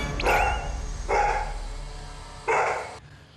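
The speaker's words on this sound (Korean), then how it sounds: "책방에 오는 손님을 보면 짖느라 바빴는데요" A dog in a bookshop barks at arriving customers, three loud separate barks spaced about a second apart, close to the microphone with a quieter gap between the second and third.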